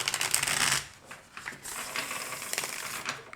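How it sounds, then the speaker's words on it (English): Tarot cards being shuffled by hand in a quiet room, a dense burst of riffling paper flutter at the start followed by softer, intermittent card slides and shuffles. "I want to shuffle once again"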